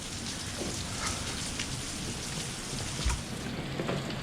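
Rain falls steadily on farm surfaces after barley silaging, a soft, even hiss of drops with a few louder spatters and a low thump, no voices.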